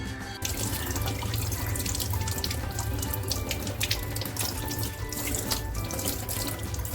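Steady running water from a tap splashes into a sink while goat intestines are rinsed, a continuous rushing flow with occasional drips and handling sounds, close by and fairly loud.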